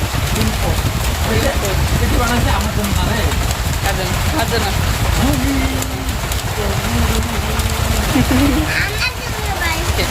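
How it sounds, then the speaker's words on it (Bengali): Steady rain hisses throughout, a dense constant wash of noise, while people talk quietly underneath. "বাইরে বৃষ্টি"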